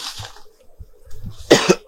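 One or two sharp, close coughs burst out near the end, loud against quieter low murmuring and shuffling noises earlier in the scene.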